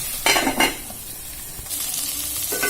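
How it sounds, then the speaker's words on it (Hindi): Potatoes cooking in a pan for vegetable biryani, a soft background sizzle interrupted by a few bright clattering stirs of a utensil against the pan, close and alone. "थोड़ी देर इसी तरह हम पकाएंगे आलू को भी।"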